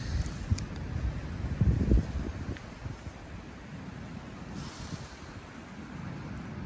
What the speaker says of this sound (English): shame it's a bit windy